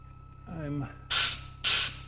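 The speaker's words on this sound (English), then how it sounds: "carefully using the nozzle to avoid blowing the chip back into the hole, to just kind of like clear the chip off the tap." An air nozzle on a CNC mill gives two short, sharp hissing blasts to clear chips off a tap. A person speaks briefly just before the blasts.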